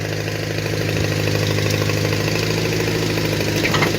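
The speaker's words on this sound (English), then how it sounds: "I back up because that backhoe digging." A backhoe engine runs steadily at close range while digging, its mid-pitched rumble holding an even idle-like drone with a faint knocking vibration throughout.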